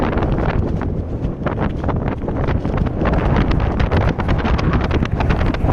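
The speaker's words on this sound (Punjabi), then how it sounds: "ਹਵਾ ਬਹੁਤ ਜ਼ਿਆਦਾ ਤੇਜ਼ ਹੈ ਇੱਥੇ" Strong mountain wind at the Drang Drung glacier viewpoint batters the microphone in loud, continuous roaring gusts.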